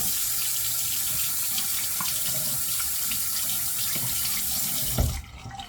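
Water runs from a tap into a sink in a steady, loud gush for about five seconds, then is abruptly shut off, leaving quiet room tone.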